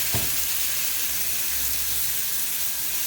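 Bacon sizzles in a pan for a bread and potato soup, giving a constant bright hiss with crackling. A brief thump sounds near the start.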